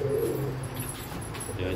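Pigeons kept in a backyard loft coo softly in a brief, low, throaty burble heard up close.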